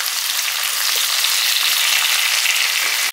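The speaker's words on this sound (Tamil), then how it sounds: "தக்காளி வெங்காயம் இந்த அளவுக்கு வதங்கினா போதும்." Chopped tomato and onion sautéing in a pan in a restaurant-style vegetarian dish, a dense, even frying sizzle heard up close and steady throughout the short stretch, with no talking.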